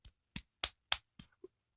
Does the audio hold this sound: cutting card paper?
no